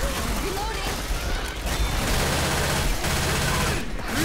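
Gunfire in Left 4 Dead 2 at a railroad station: dense, rapid bursts of shots blending into a continuous loud clatter, with brief pauses and mechanical clicks, under a busy game mix.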